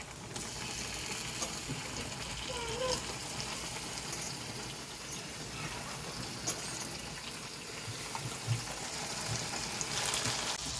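Small onions, then tomatoes, cooking in a pan for a cumin curry, giving a steady low sizzle and crackle throughout with a few faint clinks of stirring, no talking.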